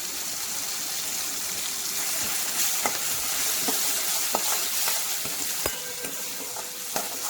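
Ground garlic and chili paste fries in hot oil with asafoetida and curry leaves, giving a steady close sizzle broken by occasional sharp crackles and pops as it is stirred in the pan.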